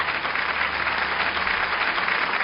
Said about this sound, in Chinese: 掌声送给他们。